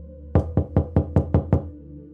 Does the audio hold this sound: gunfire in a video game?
no